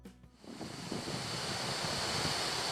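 Strong stormy wind buffeting a motorcycle rider crossing a bridge on a long trip to Nordkapp, a dense roaring rush that swells within the first half second and then holds loud and steady to the end, with no voices.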